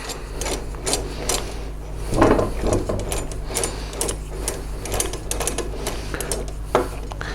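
A screw is driven in and tightened during assembly of an FB3 unit, close irregular clicks, scrapes and small metallic knocks repeating over several seconds without talk.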